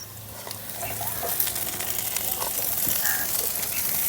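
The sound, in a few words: chopped capsicum, onion and green chilli sizzling while stir-frying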